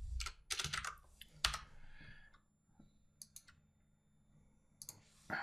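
Quiet keystrokes on a computer keyboard during C# programming, coming in short uneven bursts of clicks with pauses between, close and fairly soft.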